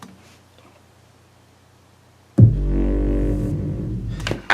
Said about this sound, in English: here's what the 808 sounds like